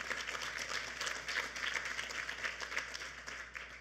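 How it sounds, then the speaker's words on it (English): Soft, steady applause from an audience at a panel event on Senior Corps and independent living patters on continuously, faint and somewhat distant, with a fairly even texture of many hands clapping. "That is worthy of a round of applause."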